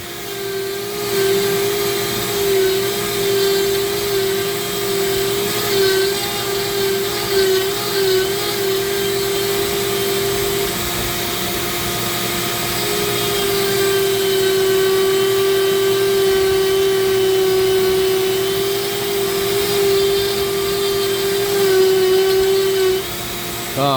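Rotary carving of zebra wood for a bangle with a Kutzall Extreme flame burr: a steady, close, high-pitched motor whine runs throughout with a rough grinding rasp that shifts slightly as the burr follows the line.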